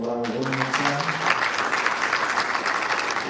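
Audience applause at an African energy panel session, a full room clapping steadily and fairly close after a short spoken line at the very start.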